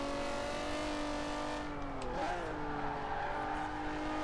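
A Ford Puma with only three gears races through an event in Forza Horizon 4, its engine droning steadily and loud, then pitching down and back up as it shifts or eases through a turn.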